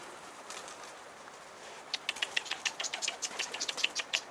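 A runaway pigeon flying in low, heard as a rapid series of sharp wing flaps and claps that begin midway and continue steadily, fairly close, with no talk over them.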